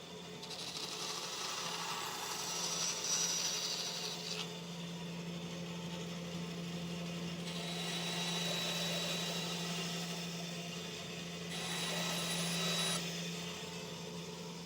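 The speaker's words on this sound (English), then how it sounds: "take one of these over to the bandsaw and cut a little 90-degree piece that just hooks around this corner" A woodworking bandsaw cutting a small 90-degree piece of scrap wood, a steady mid-loud motor whine with the blade's tone rising in a few longer swells as it works through the cut.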